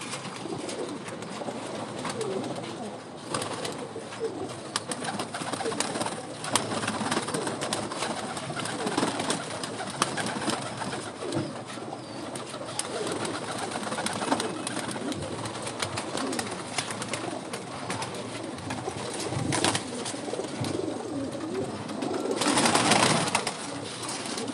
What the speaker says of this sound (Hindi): मेरे पास और भी कबूतर हैं